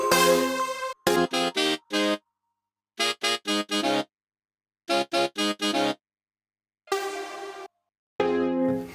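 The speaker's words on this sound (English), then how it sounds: "here I have the horns with some overdrive on it to make it a bit bigger." Short bursts of bright, buzzy Logic Pro X synth horn stabs with overdrive, in rhythmic groups of three or four, separated by silences, with a gritty overdriven edge.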